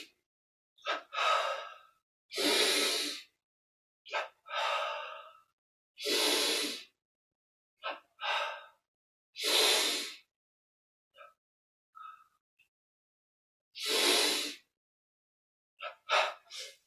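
Slow, deep breaths of a guided yoga breathing exercise, with long inhalations and exhalations repeating in an even rhythm, close and clear, separated by quiet pauses with no talking.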